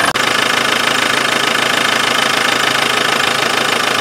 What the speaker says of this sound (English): I've had the engine running